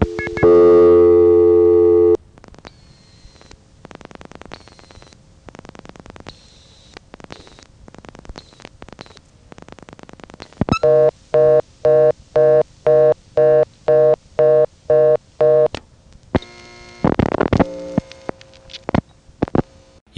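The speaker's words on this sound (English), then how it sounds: "here is a call from a prepay coin phone served by number 1 ESS in 1982" A 1982 call from a prepay coin telephone on a Number 1 ESS analog switch: a steady tone, then scattered clicks, a run of regular busy-signal-like beeps and dialing tones, with faint background chatter on the line.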